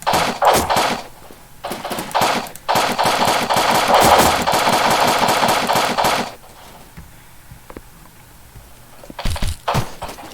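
Rapid automatic gunfire rattles in long close bursts in the blocky shooter BLOCKPOST, with short gaps and a quieter stretch before a few final shots.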